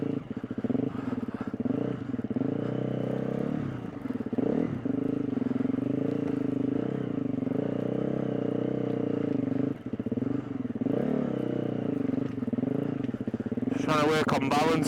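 Dirt bike engine droning steadily on an enduro course at a motocross track, with shifting revs and a brief clatter near the end; the motor stays loud and close throughout, and breathy sounds from the rider come through over it.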